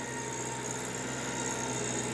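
A TYM T264 tractor engine drones steadily under load while pulling a Rural King tiller through first-time tilled soil, a constant close mechanical hum with no talk.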